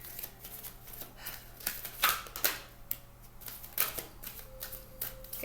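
Quick crisp riffling of playing cards being shuffled, several bursts of rapid flicks close by with short gaps between them.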